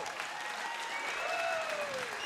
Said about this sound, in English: a round of applause for both fighters